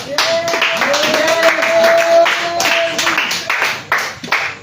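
A church congregation claps together in praise, a quick run of sharp, overlapping hand claps while a preacher's voice carries on over it.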